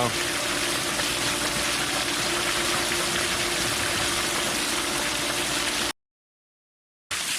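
Water from a pool filter backwash gushes out steadily, flushing debris in a loud, continuous rushing stream, with a short silent gap near the end.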